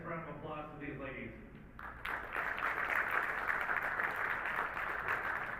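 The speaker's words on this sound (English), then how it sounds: "Nice round of applause to these ladies." An arena audience at the WPA Women's 8-Ball World Championship pool match applauds after a short stretch of commentator voice, the clapping swelling to a steady, fairly loud wash that continues to the end.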